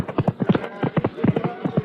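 Hoofbeats of a horse galloping off in a radio drama, a quick rhythmic clip-clop of hooves, close and loud, with a voice speaking over it.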